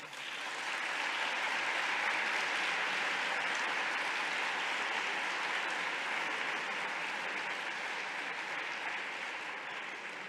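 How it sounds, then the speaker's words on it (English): Sustained audience applause at a university rector installation ceremony in Europe, a dense, even roar of clapping holding steady for about ten seconds without talk. "I'd ask for a round of applause for Mike"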